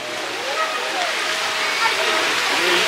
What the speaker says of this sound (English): They have a waterfall.